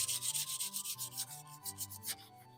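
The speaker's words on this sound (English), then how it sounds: "So I'm going to hit it with just a little bit of sandpaper" Sandpaper rubs back and forth over distressed wood on a marble game board in quick, steady strokes, close and fairly quiet, with no talking.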